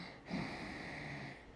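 One deep, forceful breath is drawn in sharply and pushed out again, a close, rough and slightly snorting sound heard on its own with no talking.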